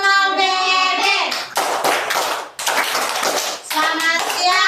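In a classroom, children perform the Donald Duck clapping game: chanting voices alternate with bursts of rhythmic group hand claps, loud and close, in several rounds.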